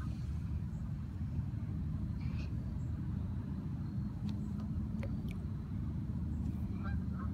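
Waterfowl honk in scattered, brief calls over a steady low traffic rumble at a lakeside, the calls faint to moderate and somewhat distant, with no one talking.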